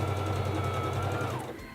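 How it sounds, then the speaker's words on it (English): A Singer Fashion Mate 3333 sewing machine runs steadily for a short burst, a close, even mechanical hum with rapid stitching rhythm that winds down at the end. "Press down on the foot control"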